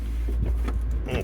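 Push-button start of a 2012 Nissan Cube, its engine cranking and catching into a steady low idle rumble inside the cabin, with a faint whir near the end.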